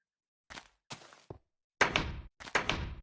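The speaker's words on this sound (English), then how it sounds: "Ah, that old door noise is something special," Blocky wooden door in Minecraft Alpha opening and closing, a series of short hollow clicks and thunks, two soft ones then a louder clattering pair, crisp and close with silence between.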